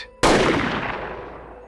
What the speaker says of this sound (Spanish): A lo lejos, Mike escucha un disparo y acelera el paso